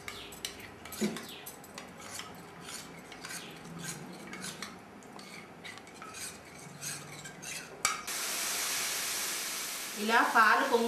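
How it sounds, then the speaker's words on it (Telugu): A spoon clinks and scrapes around a vessel while custard powder is stirred into milk for a fruit salad, a busy run of close metallic taps and rattles, followed by a steadier hissing rush near the end. "పక్కకి తీసి పెట్టుకున్న పాలల్లో కస్టర్డ్ పౌడర్ వేసి ఉండలు లేకుండా కలుపుకోవాలి"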